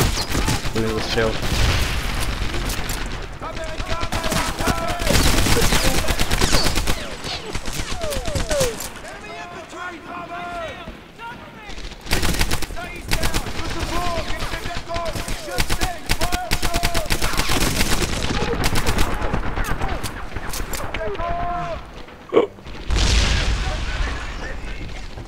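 Rifle gunfire in the video game Medal of Honor Airborne: loud, repeated bursts of rapid shots and booms, with voices talking between and over the firing.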